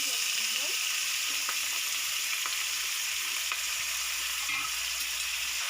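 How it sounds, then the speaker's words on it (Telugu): Onions frying in hot oil in a pan for a chicken curry, a steady close hiss of sizzling with occasional soft pops and light stirring clicks throughout, with no talking. "ఆయిల్ వేడైంది, ఆనియన్స్ వేసుకున్నాం"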